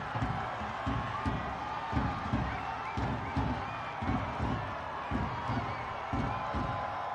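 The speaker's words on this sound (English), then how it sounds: "The City Stadium crowd in full voice in these late moments." A stadium crowd at a Richmond Kickers soccer match roars in the late moments, with a rhythmic chant or beat pulsing steadily through a constant wall of crowd noise.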